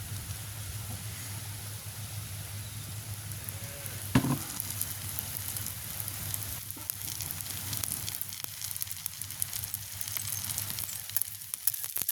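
Dosa batter frying in oil on a hot griddle in a village kitchen, with a steady close sizzle and crackle throughout and a brief louder burst of spatter partway through; nobody speaks.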